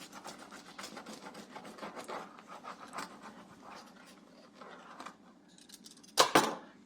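A knife or pizza cutter scraping through the crust of a homemade pizza, a stretch of rough rasping strokes with a sharper crunchy burst near the end, close up and with no talk.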